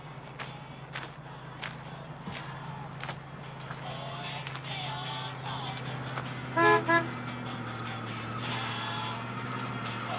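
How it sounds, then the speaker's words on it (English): Two short toots of a car horn as a car arrives, heard over a steady low engine hum and faint background sounds. "Give me a call when you hear the car."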